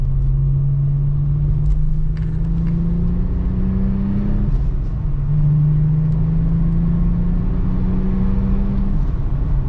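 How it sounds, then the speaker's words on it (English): A Volkswagen Jetta VR6 wagon engine accelerates steadily to about 4,000 RPM, its hum climbing in pitch, dropping briefly at a gear change, then climbing again; heard from inside, with no talking. "I'm gonna give it a nice little, just like go through the gears a little bit"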